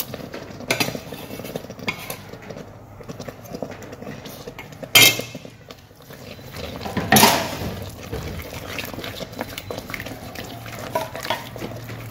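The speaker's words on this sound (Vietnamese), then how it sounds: "Rồi bây giờ mình sẽ cho phần thịt băm vào." Minced pork added to a pot of ginger rice porridge on a stove, with soft bubbling, a couple of sharp clinks of utensils against the pot, and stirring and scraping throughout.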